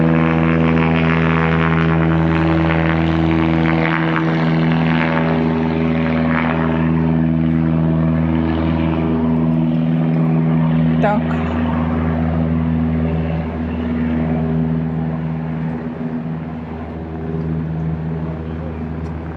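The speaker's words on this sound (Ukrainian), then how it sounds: "Злетів літак, ви бачите" A fixed-wing airplane takes off and climbs over Lake Como, its steady engine drone with strong low harmonic hum holding loud and even across the whole stretch, gradually easing slightly as it moves away, with faint outdoor ambience.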